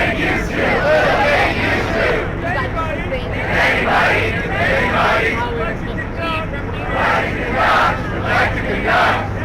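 A loud crowd cheering and shouting during a police raid scene in New York City, the roar swelling in waves with babble and a steady low rumble of traffic or engines throughout.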